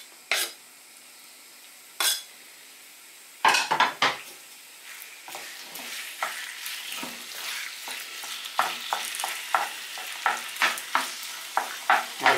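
Chicken breast fries in a pan with a little oil, with a soft sizzle under repeated close clinks and scrapes as a utensil stirs and knocks against the pan.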